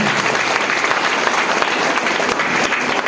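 An audience applauds loudly at a business seminar, a continuous dense burst of clapping from a large crowd heard up close with no talking over it.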